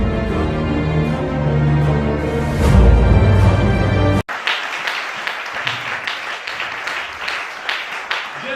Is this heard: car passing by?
no